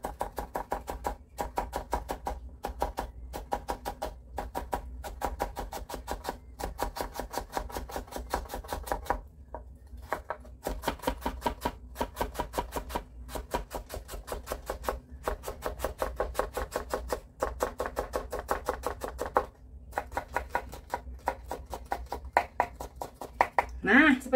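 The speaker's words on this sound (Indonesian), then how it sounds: "baru kita rajang." Potatoes being sliced with a knife on a board, a fast steady run of crisp chopping taps with brief pauses, close and clear, while someone talks over it.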